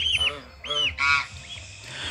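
A Bengal goose gives three loud, nasal honks close by in quick succession, the last one harsher, followed by quiet.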